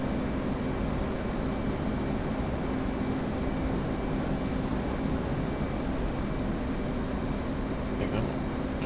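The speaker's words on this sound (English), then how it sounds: "looks like it's got a F-15 escort." F-15 jet aircraft in the DCS flight simulator game: continuous broad roar of jet engines at steady loudness, with no distinct events.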